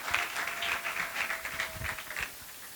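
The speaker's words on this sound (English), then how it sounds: "She deserves a better round of applause" An audience at a youth entrepreneurs event applauding a presenter, a short, fairly faint patter of clapping that thins out toward the end.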